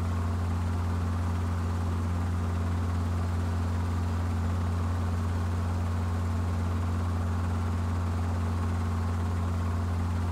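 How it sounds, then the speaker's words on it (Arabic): A steady, droning engine hum with a strong low throb, like an aircraft, continues unchanged and loud throughout, with no talk. "ايه صوت الطيارة ده؟"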